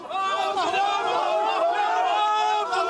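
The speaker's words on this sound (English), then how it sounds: "At this port in Benghazi, a crowd of anxious relatives gather." Crowd of anxious relatives gathered at a port in Benghazi, a close, dense babble of many voices with chatter and calls throughout, steady and loud.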